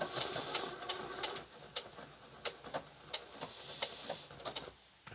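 A Singer 6800C heavy-duty sewing machine runs decorative stitches, its motor whirring steadily and ticking in quick regular clicks before slowing into sparse, spaced ticks as it winds down and stops.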